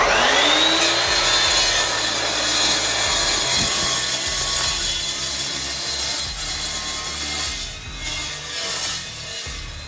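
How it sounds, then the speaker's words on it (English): Evolution 14-inch metal chop saw running continuously and loudly, a harsh high-pitched whine with grinding, rasping texture that holds steady for about ten seconds, with no talking. "Now the other horrible thing about this saw is how loud it is."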